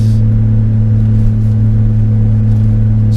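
A 1988 BMW iX car engine runs at a steady, smooth idle, a low even hum with a deep constant drone, moderately loud and close, with no talking.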